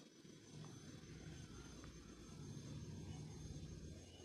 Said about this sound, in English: engine is on full power